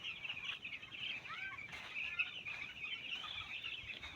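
Chickens clucking and calling softly from a short distance, with a few brief murmured calls over a faint hissy background and no talk.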